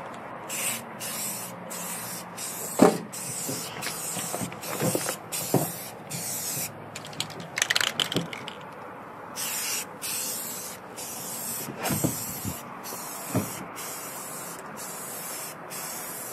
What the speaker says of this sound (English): For this application, I'm actually just using spray paint, satin color.